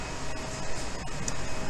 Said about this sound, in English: it's an industrial grade medium size printer